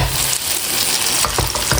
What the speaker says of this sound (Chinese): 把鸡蛋和茄子煎制成视频中这样